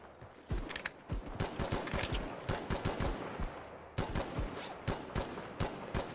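AK rifle fire in the video game Incursion Red River: rapid bursts of sharp, loud shots in quick succession, some single cracks and some fast strings, with a short pause midway before the firing resumes.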